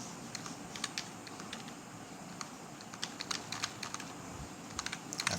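Numbers are typed on a computer keyboard into an Excel spreadsheet, a quiet, close, irregular patter of key clicks with no talking.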